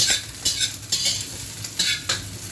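Fried rice stir-fried in a pan, rhythmic scraping strokes of a utensil every half second over a continuous close sizzle.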